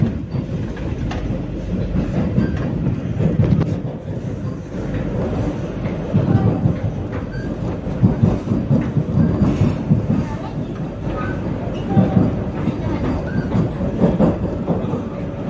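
The Vande Bharat Express, train 20607 from Chennai to Mysuru, rolls slowly through Jolarpettai Junction without stopping, with a steady close rumble and rhythmic clickety-clack of wheels over rail joints throughout.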